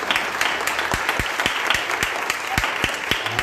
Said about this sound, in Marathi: जोरात टाळ्या वाजवा येशूसाठी